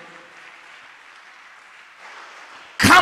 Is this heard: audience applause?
yes